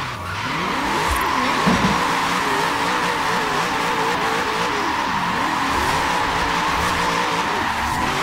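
A car drifting at a Hoonigan Expression Session, tires skidding and squealing continuously over a droning, revving engine for several seconds, loud and fairly near, with no talk.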